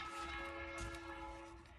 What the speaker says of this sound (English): Oh, sorry, there's a train.